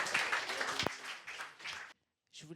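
A church congregation at a Sunday worship service applauds in a dense, steady burst for about two seconds, then stops abruptly, with a brief faint flicker of sound afterward.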